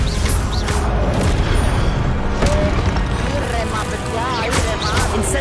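Hogwarts Legacy spell combat with crackling magical bursts, whooshes and thudding impacts arriving in rapid succession, layered over a busy, loud battle bed with voices calling out.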